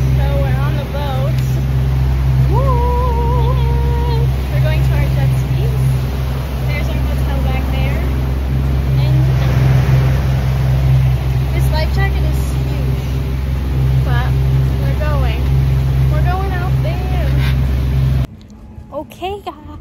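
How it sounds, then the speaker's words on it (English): A motorboat engine drones loudly and steadily on the water in Dubai while people talk over it, then the noise cuts off abruptly. "So we're on the boat."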